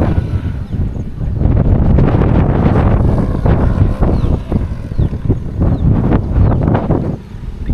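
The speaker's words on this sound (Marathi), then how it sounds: "हवा सुटली मस्त" Strong wind gusts roar and buffet the microphone on green monsoon hills at Pabe ghat near Velhe, with clouds hanging low; the blustery rumble stays loud and continuous throughout with no talking.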